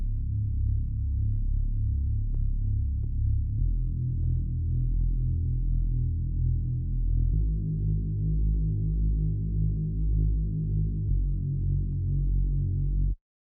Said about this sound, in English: that's a basic preset from Spire, the Kung Fu preset